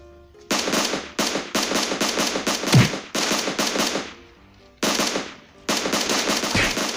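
Gunfire in PUBG Mobile: rapid automatic bursts of close, loud shots in several separate volleys with short pauses between them and one heavier thump in the middle, with no talking.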